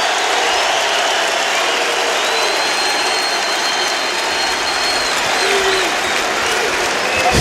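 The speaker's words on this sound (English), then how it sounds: "Listen to the crowd, folks." Packed basketball arena crowd at a college game between Oregon and top-ranked Illinois, a loud sustained roar of cheering and applause filling the space evenly throughout, with no distinct voices standing out.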